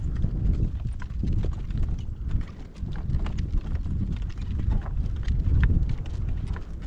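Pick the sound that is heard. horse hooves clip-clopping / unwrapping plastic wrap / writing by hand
horse hooves clip-clopping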